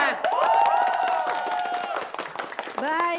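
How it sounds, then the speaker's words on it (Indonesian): A television quiz-show studio audience cheers and claps loudly for a high-school team, with excited shouting and whooping voices over continuous applause. "Boleh berikan tepuk tangan lagi untuk Regu A."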